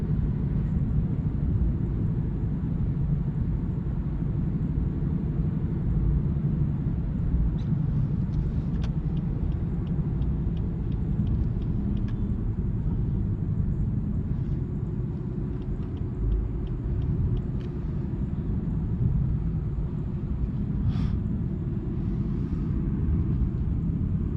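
Lexus ES 250 AWD with a 4-cylinder engine cruising on the road, heard from inside as a steady low rumble and road drone throughout, with faint ticks and no talk.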